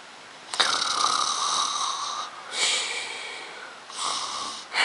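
A voice imitates snoring with long, rasping inhaled snores, three drawn-out rounds separated by short pauses, close and loud.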